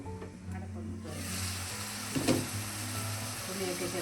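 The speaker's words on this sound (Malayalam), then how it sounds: "അടച്ച് വെച്ച് വഴറ്റിയെടുക്കാം." Chicken liver sautés in a covered pan, a steady broadband sizzle and crackle with occasional stirring scrapes, close and continuous under a low background hum.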